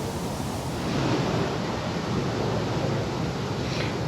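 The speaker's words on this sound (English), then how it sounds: "it's really windy today" Strong wind blows outdoors on a deer trail in Pennsylvania, a loud, steady, broadband rush with no pauses, buffeting close to the microphone.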